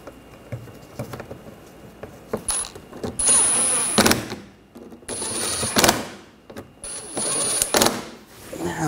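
Screws being tightened down while assembling a wheel: several bursts of whirring, clattering power-driver action, loud and close, separated by brief pauses, with no speech.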